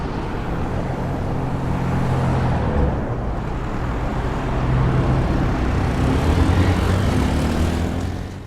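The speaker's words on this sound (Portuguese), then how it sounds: "e barulho gerado por automóveis." A steady, broad roar of road traffic with engines passing at moderate distance, continuous throughout with a slight swell near the end.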